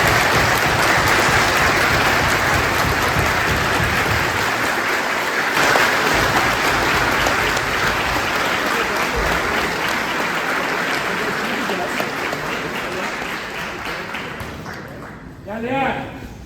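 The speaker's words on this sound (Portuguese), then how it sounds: "uma salva de palmas para os trabalhadores aí" Crowd at a large Behring jiu-jitsu seminar and graduation applauds the workers, a long, loud, continuous roar of clapping that slowly thins out before a voice briefly starts talking at the end.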